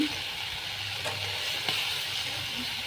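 Eggplant and small mixed fish chachchari cooking in a pan, with chopped coriander and green chillies added, gives a steady close sizzle and hiss with a few soft scraping stirs and brief clinks.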